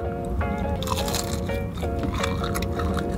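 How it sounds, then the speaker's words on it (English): Close, wet crunching and squishing from chewing a fried chicken gizzard, with repeated crackly bites, while a tonal hum or music plays in the background. "it's so hard to chew"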